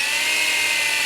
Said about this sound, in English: So I may as well put the drill until it touches some foam